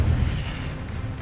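The Incendio fire spell cast in the video game Hogwarts Legacy erupts in a loud, deep whoosh-boom that rumbles for about a second and then slowly fades.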